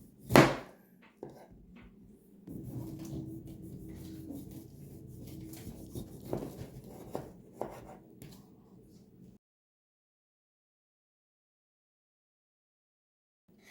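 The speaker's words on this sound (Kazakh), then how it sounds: "Дәл ортасынан 2-ке бөліп аламыз." A knife halves two limes and a lemon on a board: one sharp knock near the start, then several seconds of close cutting, scraping and tapping before silence.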